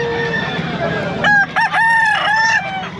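A rooster crows once, loud and close, in a long rising-and-falling call over the crowded background noise of a pet market for fighting-cock bloodlines in Bocaue.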